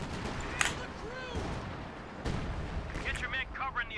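Artillery shelling in the Company of Heroes 2 video game: muffled booming impacts and crackling blasts rumble continuously at moderate volume, with a sharper burst early on and distant whistling shells near the end.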